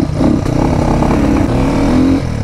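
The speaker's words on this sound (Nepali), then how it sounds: "उ अब चाहिँ बाइकमा जानुपर्छ सिधै बाइकमा भेटौँ" An HJ250 motorcycle rides a mountain road on the way from Beni toward Narchyang, its mid-pitched engine droning steadily up close with slight rises in revs and no voices over it.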